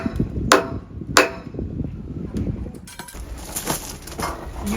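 Sharp metallic strikes of a hammer driving wedges to remove a boat keel, a few spaced blows followed by a cluster of knocks, with faint outdoor background and birds.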